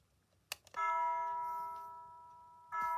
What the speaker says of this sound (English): it's a doorbell system